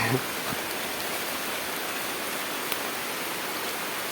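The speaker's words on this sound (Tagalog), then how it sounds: "ayan ayan umulan na" Steady hiss of falling rain outdoors in a frog-catching spot, even and continuous, with faint scattered drops and nothing else standing out.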